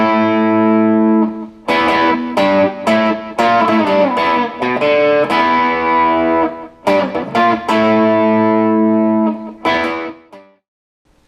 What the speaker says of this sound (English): After that intro riff is where I think he actually turns on the delay pedal to give it a little bit of that echo there.